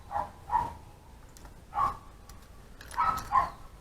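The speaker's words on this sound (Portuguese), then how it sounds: "O cachorro não para de latir." A dog barks somewhere in a cluttered room, a few sharp barks in two quick pairs and a later cluster of three, moderately distant and otherwise alone against a quiet background.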